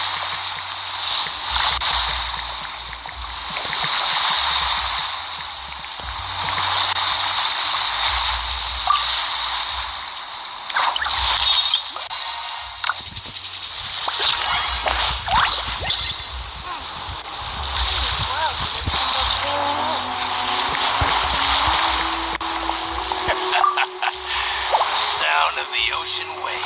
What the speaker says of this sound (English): Sound of the ocean waves.